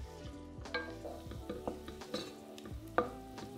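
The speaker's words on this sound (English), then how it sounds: "We're going to cook these onions for about 10 to 15 minutes on a really low heat until they're lovely and soft and sweet" Onions softening in a pan over really low heat for a pasta sauce, a faint gentle sizzle with a few soft, spaced stirring taps and scrapes; no speech.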